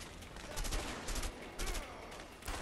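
Rapid gunfire bursts in the co-op video game A Way Out, several loud rattling volleys in quick succession with brief gaps, no speech.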